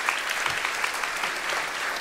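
An audience at a school Grandparents Day event claps in steady, dense applause, a sustained wash of many hands close by with no voices standing out.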